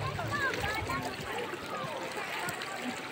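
River water flowing and splashing over large rocks at Baco, Oriental Mindoro, a soft steady trickle heard close by beneath a person talking.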